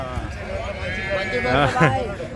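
Sheep bleating at the Gudur sheep market, several wavering cries rising over a busy crowd with people talking throughout.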